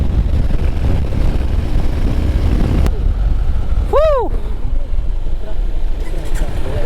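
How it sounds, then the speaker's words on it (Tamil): A bus speeds past on a windy Kolli Hill road, a loud steady roar of engine and wind throughout with a brief horn-like tonal sweep near the middle. "பஸ்ஸு போகுது."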